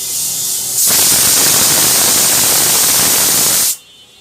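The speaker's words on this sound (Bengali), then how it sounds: "এবার আরেকটা সিটি আসছে" A pressure cooker cooking polao lets out a loud, sharp burst of hissing steam from its whistle, lasting about three seconds and then cutting off abruptly, with no talking over it.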